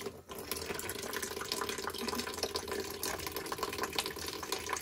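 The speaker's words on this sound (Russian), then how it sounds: "Мы его ставим в ведро, делаем маленькую струйку воды." A small stream of water runs into a bucket, a steady continuous splashing trickle that is close and fairly loud, alone without talk.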